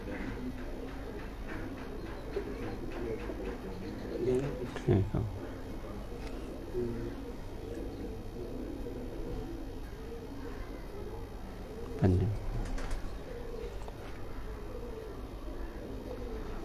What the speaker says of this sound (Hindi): डॉक्टर साहब टैडी फिरोजपुरी कबूतर का तुहानूं शौक करा रहे हैं जी